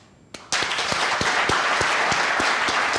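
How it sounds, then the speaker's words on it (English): A conference audience at PyCon Italia 2023 bursts into clapping after a quiet moment, a sudden dense wall of hands that stays loud and steady, with a few sharp, rhythmic claps standing out at a regular beat. "Can you clap your hands?"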